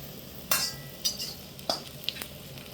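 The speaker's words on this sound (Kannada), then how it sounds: "ಈರುಳ್ಳಿ, ಮೆಣಸಿನ್ಕಾಯಿ, ಚೆಂದ ಫ್ರೈ ಆಗಬೇಕು." Onion, green chilli and tomato frying in a pan over a firewood stove, a quiet sizzle broken by a few distinct scrapes and clinks of the spatula, close by and with no voices.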